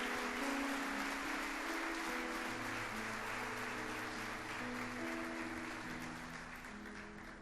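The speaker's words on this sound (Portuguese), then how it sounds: "Vamos aplaudir o Senhor Jesus pela vida dessas pessoas" A church congregation applauds during a worship service, a steady wash of many hands clapping together under sustained musical tones, fading slightly toward the end.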